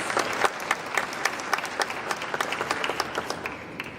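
Audience applause at a college football conference media day awards presentation, brisk clapping from a modest crowd with distinct individual claps standing out, steady throughout.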